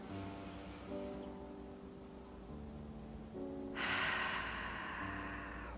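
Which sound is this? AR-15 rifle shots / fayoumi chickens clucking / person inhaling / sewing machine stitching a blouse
person inhaling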